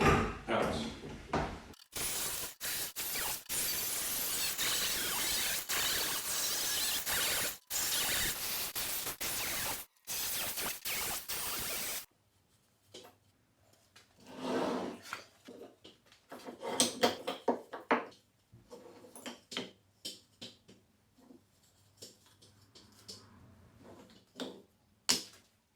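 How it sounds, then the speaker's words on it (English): Jigsaw cutting pieces out of recycled plastic for a lawnmower repair, a loud continuous buzzing cut with a few short pauses, then quieter scraping and handling clatter. "I'm gonna take my jigsaw now, cut it all out."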